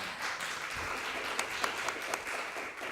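Audience applause fills a board of trustees meeting room, steady clapping from many hands at moderate level with a few sharper claps standing out, and no talk over it.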